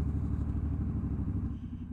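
A Scrambler motorcycle rumbles along on a ride, a low, steady engine throb with wind noise, heard from the rider's position without speech.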